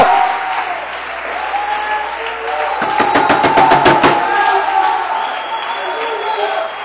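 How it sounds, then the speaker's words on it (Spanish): A church congregation breaks into loud, brief applause, rising over a preacher's ongoing voice and fading back under the room's murmur. "Denle un aplauso a papá, pero fuerte, hermano."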